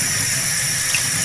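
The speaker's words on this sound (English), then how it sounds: "then dump out" Rice-soaking water poured out into an indoor kitchen sink, a steady, close, loud rush and splash of water running for a moment with no speech.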